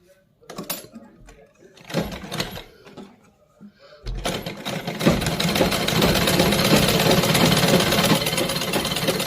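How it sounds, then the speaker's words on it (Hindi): A domestic sewing machine stitches a salwar. A few short bursts and knocks come first, then a loud, continuous whirring run of stitching close by, with no voice over it. "अब दूसरी साइड से सिलाई लगा लेंगे।"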